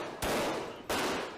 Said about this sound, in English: That's when gunfire breaks out between police and the 42-year-old, both shooting at each other.